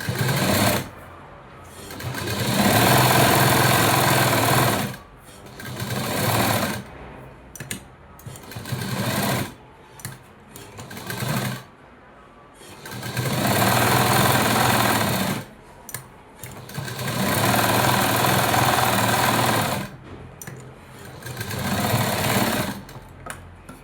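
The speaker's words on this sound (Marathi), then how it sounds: "तर आपल्याला हा सेंटर आणि तो सेंटर एकमेकांवरती ठेवून स्टिच करून घ्यायचं." A sewing machine stitches the sleeve of a blouse, joining a small embroidered border piece to a larger sleeve, running loud in several long bursts separated by brief pauses.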